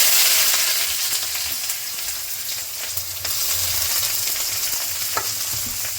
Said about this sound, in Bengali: কড়াই গরম হয়ে গেছে, দিয়ে দিয়েছি রিফাইন তেল। পেঁয়াজ দিয়ে দেবো।